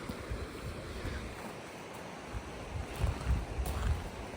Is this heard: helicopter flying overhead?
no